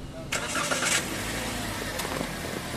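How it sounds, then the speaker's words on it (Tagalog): A Toyota Rush engine cranks briefly and catches, then settles into a steady idle close by in a workshop. Light voices can be heard in the background. "Tapos pa-start ko itong makina."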